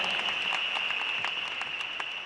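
An audience at a Malaysian awards night applauds in a steady, fairly faint patter of many hands, with a thin constant tone running underneath.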